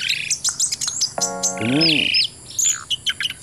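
Oriental magpie-robins chirp and tweet busily nearby, with quick repeated calls and a squawk, while a person speaks briefly.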